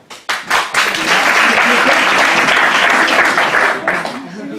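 An evening comedy show audience breaks into applause, starting with a few scattered claps then swelling into a full, sustained ovation from a sizeable crowd before easing slightly at the end.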